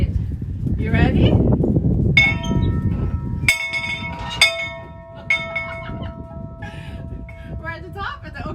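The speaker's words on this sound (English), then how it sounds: "I get to ring the bell to let them know that, let the captain know we made it" A bell is rung by hand at a landing on a boat trip at the Okefenokee Swamp in Waycross, Georgia, several clear strikes with long ringing tones that follow voices and linger under light movement noise.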